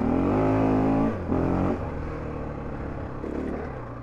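A 2024 Husqvarna FE501S dual sport motorcycle on the move, its engine droning loud and close, with revs rising and dropping through gear changes.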